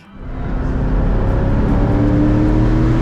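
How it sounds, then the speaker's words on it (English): Chevrolet C6 Z06 Corvette on a race track, its engine building from a low start into a loud, sustained close-up roar as it revs hard under acceleration, with no talking. "I also took Jeb's C6 Z06 Corvette out for some laps, which was sick"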